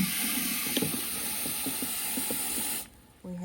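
Water pouring into a 25-gallon tank, a loud, steady hissing rush with gurgling pulses that cuts off sharply near the end, leaving a short quiet gap before a brief tonal sound.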